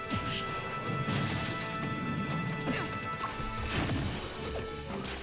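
A down smash attack lands in a Super Smash Bros. for Wii U tournament match between Duck Hunt and Pit, a loud crashing hit over dense, busy game sound effects and crowd noise.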